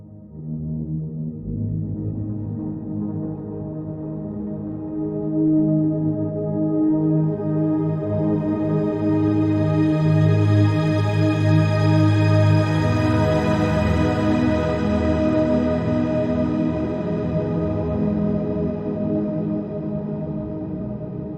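Fracture Sounds String Formations sampled strings play a sustained chord with the reverb maxed out and shimmer added, swelling into a bright, spacious wash that slowly fades, with no voice over it.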